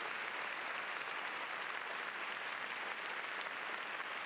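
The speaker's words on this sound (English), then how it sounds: "big round of applause" Faint, steady applause from a large audience at a school district convocation, continuous distant clapping filling the whole stretch without a break.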